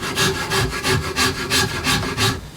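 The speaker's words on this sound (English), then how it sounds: "Maybe I can do that with a chisel" Steel scrapes across wood in a steady back-and-forth rhythm, about eight strokes, close and moderately loud, as a chisel shapes the wooden neck of a Harmony Stratotone style guitar; no one speaks.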